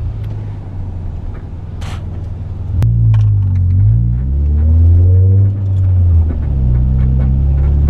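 A Honda Prelude pulls away, its engine droning low and steady with the pitch rising and shifting as it gathers speed, loud and close from inside the car, with no talking.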